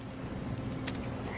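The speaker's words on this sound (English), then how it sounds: "And toads." Toads croaking in the video game What Remains of Edith Finch, a low steady croaking drone with faint creature chirps over it, held at a constant level throughout.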